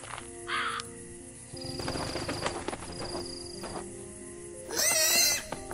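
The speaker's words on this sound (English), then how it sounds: "What kind of bird are you?" A bird caws in the dark point-and-click horror game Fran Bow, with several short harsh calls over eerie ambient game music and a loud noisy burst near the end.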